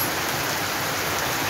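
Steady rain pours down on a rainy day in Jamaica, a dense, even hiss of drops on surfaces that holds constant and fairly close throughout, with no voices.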